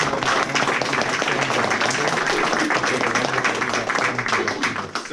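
Audience applause in a room at a Walkaway event at Berkeley, a close, loud, even patter of many hands clapping that runs steadily for several seconds before tapering slightly.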